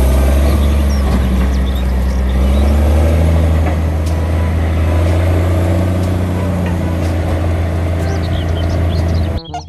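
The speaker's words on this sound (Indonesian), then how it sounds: "Di sini ada dump truk pertambangan atau articulate" An articulated mining dump truck's diesel engine runs in a loud, steady, deep drone for nearly ten seconds, with faint bird-like chirps high above it and no talking.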